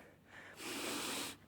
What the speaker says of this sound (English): I want to gather my breathing back to a reasonable heart rate